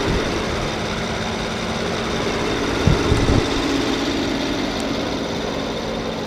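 A 2014 Rolls-Royce Wraith's twin-turbo V12 idles with a steady, smooth low hum under the open hood, holding even throughout with a brief small bump in level midway.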